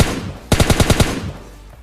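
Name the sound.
gunfire in video game PUBG Mobile Lite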